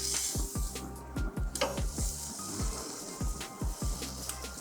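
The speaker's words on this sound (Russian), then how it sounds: "Сначала обжариваем кусок с каждой стороны." A beef roast searing in a hot pan gives a continuous sizzle, overlaid by a regular series of soft, low thumps and scrapes about every half second, close and moderately loud.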